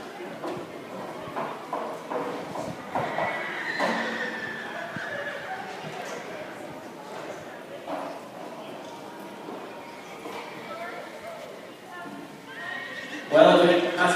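Horses neighing and whinnying in an arena during a rodeo grand entry, with hoof clip-clop and a loud whinny near the end, heard under an announcer's voice over the PA.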